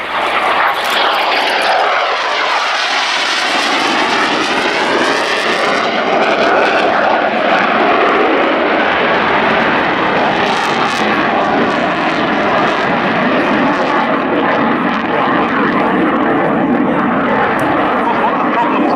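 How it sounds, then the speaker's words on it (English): A Danish F-16 fighter jet in a flying display at Yeovilton Air Day, its loud engine roar sweeping past close by with a sharp pitch shift and sustained thunder afterward. "A Danish F-16 in a flying display in the UK for the first time in 6 years."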